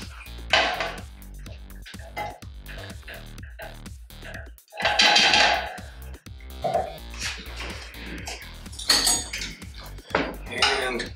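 Utensils clink and scrape against a bowl as salted food is mixed, giving repeated close metallic taps and rattles with an uneven rhythm, and a voice speaks now and then between them.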